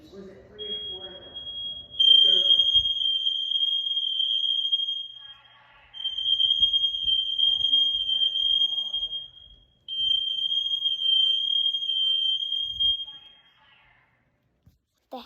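A smoke detector fire alarm sounds three long, loud, piercing electronic tones, each several seconds long with short gaps between, while a person talks quietly at the start and between blasts.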